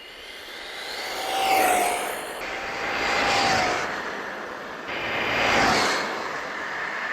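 RC car motor running on a 6S battery, whining as it sweeps past in three rising and falling passes, faint to moderate, with no talk.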